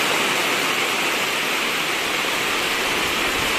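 Heavy rain pours with water rushing and roaring nearby, a loud, steady, unbroken wash of noise with no voices.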